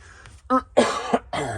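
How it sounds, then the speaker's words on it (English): A person with COVID coughs a few times up close, harsh throaty bursts mixed with a bit of throat clearing. "Excuse the COVID cough."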